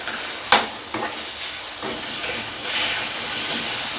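Finely chopped tomato and green chillies fry in a hot pan over medium flame, a close, bright sizzling hiss broken by a few scraping stirs as they are mixed in.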